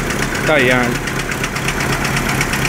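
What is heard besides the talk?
noisy 1995 Chevrolet Monza car engine running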